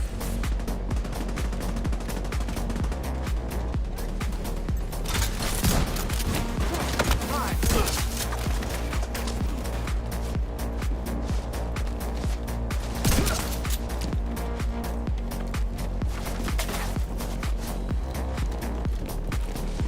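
Sustained gunfire from the shooter game The Division 2, dense rapid bursts of automatic fire running continuously and loudly with brief heavier impacts, no talking over it.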